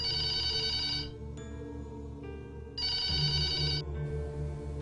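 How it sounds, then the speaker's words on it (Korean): A telephone rings in repeated electronic trilling bursts, loud and close, with brief pauses between rings and no voices. "여느 때처럼 평온히 지내는 와중에 전화벨이 울렸다"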